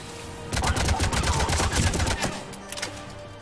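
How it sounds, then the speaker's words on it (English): Rapid automatic gunfire rattles in dense bursts during a Mass Effect 3 battle scene, loud and close, with the barrage thinning toward the end. "Under heavy attack. Enemy still present. Pod under fire."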